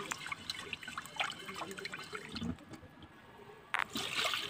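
A cup of rice is rinsed under running water in a home kitchen, with faint steady trickling, small drips and a few clinks of grains and cup, quiet and close.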